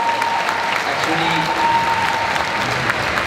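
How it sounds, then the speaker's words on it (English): A convention audience at the 2019 CCXP panel with Nikolaj Coster-Waldau applauds in a large hall, with dense, sustained clapping throughout and no break. "I think that's like worth a round of applause"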